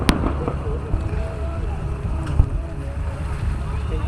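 Fireworks at Tacoma's Freedom Fair Independence Day show thud and crackle in the distance, with one sharper bang, over steady wind and crowd noise while people talk nearby.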